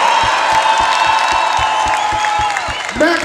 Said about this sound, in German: Dann gebt mir mal ein bisschen Lärm und Applaus